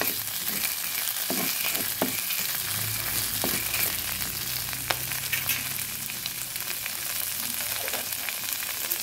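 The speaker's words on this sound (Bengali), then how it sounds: "আদাটা কিছুটা ভাজা হয়ে আসলে" Ginger sizzles and crackles in oil in a pan with pumpkin and drumstick pieces for a vegetarian curry. The frying is steady and close, with occasional sharper pops and stirring scrapes, and there is no talk.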